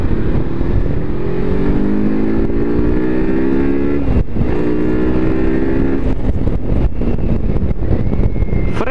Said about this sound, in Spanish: Frenamos, la probamos a la moto, vamos a probarle en frenado un poquito.